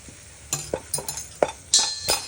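A spoon stirring and scraping food in a frying pan at home, with a sizzle beneath; several sharp scrapes and clinks come in irregular bursts, close and moderately loud, with no talking.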